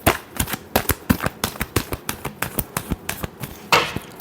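Tarot cards shuffled by hand in a rapid run of crisp riffling snaps, close and fairly loud, with a slightly bigger flutter near the end.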